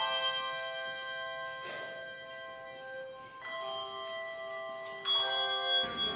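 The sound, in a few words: church bells ringing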